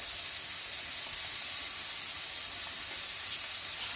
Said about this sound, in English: So I put my bacon in a hot pan. Then I'm gonna get them nice and crispy.